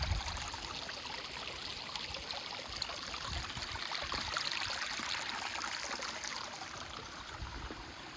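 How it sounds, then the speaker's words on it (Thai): Stream water rushes and trickles steadily, a continuous close babbling flow with no voices, at a mountain waterfall stream in Thailand. "มีแต่น้ำไหลใส่จริงๆ"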